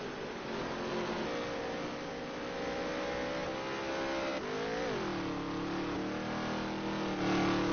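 Dirt track race cars at Jefferson in the NOSSCAR Dirt Touring Series roar past, engines revving and droning loud and continuous, the pitch dropping as a car passes around five seconds.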